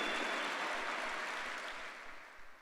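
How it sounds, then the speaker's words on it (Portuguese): Faint, distant applause from a large church congregation at a Sunday service, a soft wash of clapping that gradually thins out and fades. "por favor, dê um aplauso ao Senhor e um grito de júbilo"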